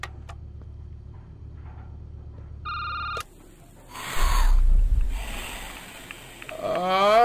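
A telephone rings in a video game with a short, bright electronic ring partway through, set among low rumbling ambience and other game sounds, with no speech.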